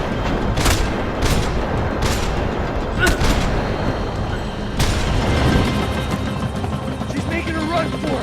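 Rifle gunfire in the video game Max Payne 3: several sharp, loud shots ring out at irregular intervals, about six in all, over a rumbling engine-like background with shouting voices in between.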